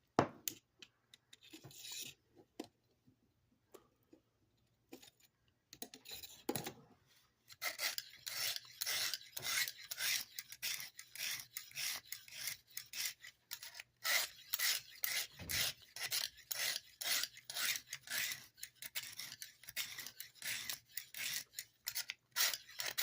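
Vintage Carl Schlieper Eye Brand German knife being sharpened, a steady series of rhythmic raspy strokes across the blade, sparse and quiet at first and then fast and regular, close up with no talking.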